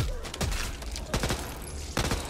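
Video game gunfire in a tense team shooter: a few loud, sharp shots land in separate bursts over steady background game noise, with no voices.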